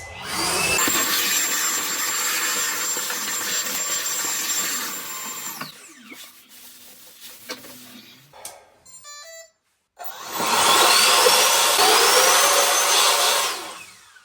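A vacuum cleaner tidies up during plumbing work to reposition a wall-hung basin in a tight bathroom. It runs as a loud, steady drone, stops for a few seconds of quieter tool handling, then starts again.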